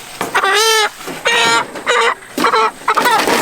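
Chickens penned in a cage on a farm give loud, close clucks and drawn-out squawks in four distinct bursts, with no talk.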